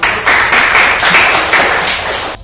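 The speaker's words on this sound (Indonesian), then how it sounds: "Kita beri tepuk tangan." A classroom full of people claps together, a dense burst of applause that swells in waves and carries on for a couple of seconds.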